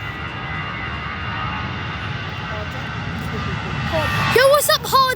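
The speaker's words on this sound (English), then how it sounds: "EasyJet coming for takeoff" An EasyJet jet airliner in the PTFS flight game powers up for takeoff, a steady engine roar that swells louder toward the end, with voices and brief tonal chirps near the close.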